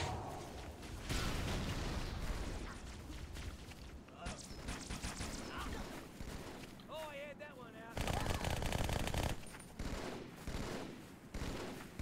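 Turret gunfire in Halo 2 Anniversary, loud sustained automatic bursts with explosions mixed into a busy game soundtrack and effects, running nearly the whole stretch with brief lulls.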